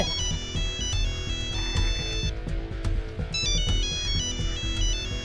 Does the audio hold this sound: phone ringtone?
yes